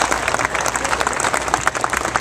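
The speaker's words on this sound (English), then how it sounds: "Give them a round of applause." An audience at a political campaign event in Bartlett, Tennessee bursts into steady, dense applause for a police escort, close and loud throughout, with no talk over it.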